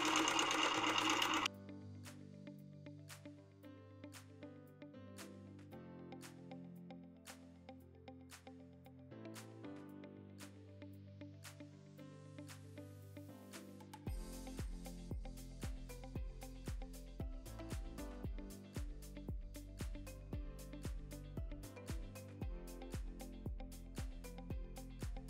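A Pro-Stitcher Lite computerized quilting machine stitches out a row of an edge-to-edge design, its rapid needle strokes ticking evenly for over twenty seconds, growing louder and heavier partway through, close and without talk.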